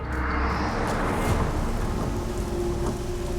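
A heavy 3 a.m. downpour hisses loudly and steadily, with a low thunder rumble rolling underneath across the whole stretch.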